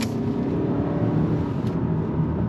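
A 2025 Toyota Camry SE accelerates on throttle, giving a steady, full engine and road drone heard from inside the car, with no pauses.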